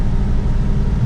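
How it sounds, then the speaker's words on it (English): A Rolls-Royce Silver Cloud engine pulls steadily up a hill in third gear, a continuous low rumbling drone with raised revs heard from inside the car, loud and even with no talk. "Motor sounds good. Hear it?"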